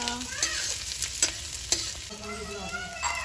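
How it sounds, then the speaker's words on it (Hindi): Capsicum frying and being stirred in a pan during chowmein preparation, a steady close sizzle with repeated scraping and clinking strokes of the spatula, no voices. "अब गैस में कैप्सिकम डाला हमने, कैप्सिकम इसमें इसको भुजेंगे"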